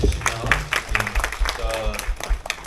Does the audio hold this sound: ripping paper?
no